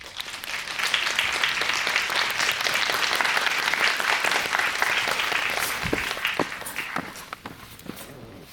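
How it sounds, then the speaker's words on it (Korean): A cinema audience at a film talk applauds steadily as a guest comes forward, dense clapping that fills the room for several seconds, then thins out, with a few footsteps and shuffles near the end. "앞으로 나와주시면 큰 박수 부탁드리겠습니다."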